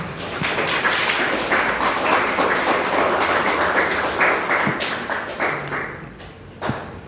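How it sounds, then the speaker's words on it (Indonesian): A classroom group claps for group 1 in a philosophy class, a dense burst of many hands clapping for several seconds before tapering off into a few last claps. "kita beri tepuk tangan untuk kelompok 1"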